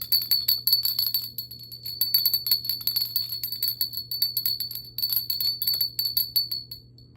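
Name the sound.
small bell rung to clear the space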